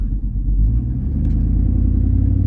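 A 2006 Chevy Tahoe GMT800 fitted with a shorty exhaust drives past close by, its loud deep engine rumble droning steadily with a slight rise partway through.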